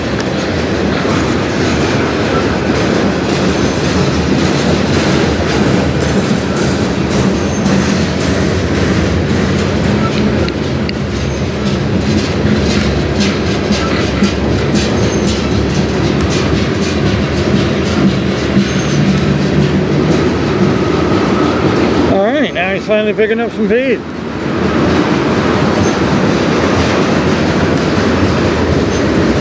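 A freight train rolls past near Sarnia, its continuous loud rumble and clatter of wagons filling the scene, with a brief sharper burst of noise near the end and someone speaking over it once.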